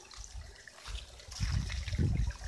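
Water drains from aquaponics grow beds, trickling faintly at first and then gurgling and splashing louder, close by.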